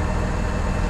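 A small three-cylinder John Deere 950 tractor engine runs with a loud, steady low rumble, close by and unbroken for about a second.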